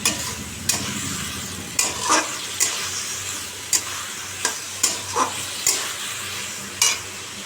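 Fish curry simmering in a pan, a steady close sizzle broken by repeated sharp scrapes and knocks of a spoon stirring at irregular intervals, with no talking.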